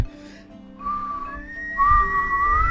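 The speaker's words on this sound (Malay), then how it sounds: "Tapi bahasa bersiul ni tidak semudah." Two whistled-language phrases in sequence, a brief level tone then a longer wavering one that climbs at the end, clear and near against a quiet background.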